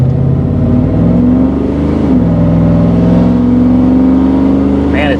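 A car just fitted with a new engine, transmission and differential runs loud and steady, its engine drone rising in pitch as it accelerates, with a voice speaking over it.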